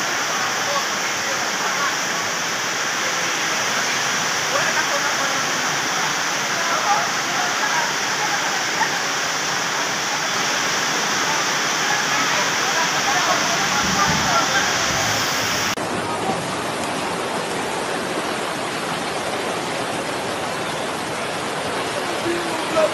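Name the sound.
heavy rain pouring onto a tarpaulin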